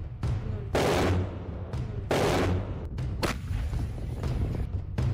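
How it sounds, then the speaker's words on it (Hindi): Russian howitzer artillery pounds away in a bombardment, with several loud, close booming blasts spaced about a second apart over a continuous rumbling background. "इस वीडियो में साफ देखा जा सकता है कि रूसी सेना की हावित्जर तोपें यूक्रेन की फौज पर भयंकर बमबारी कर रही हैं।"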